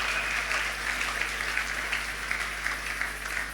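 A church congregation applauding and cheering in praise of the Lord, a dense sustained roar of clapping that holds steady throughout at moderate distance.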